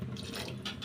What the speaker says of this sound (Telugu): ఇప్పుడైతే వాటర్ యాడ్ చేసుకుంటున్నాను.